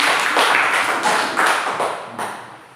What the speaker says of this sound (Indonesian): Kasih tepuk tangan dulu untuk Anda.